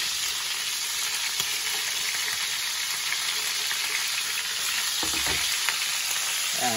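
Butter beans and green beans frying in olive oil in a paella pan, a dense, even, continuous sizzle from start to finish with a brief low knock of the utensil partway through, no talking.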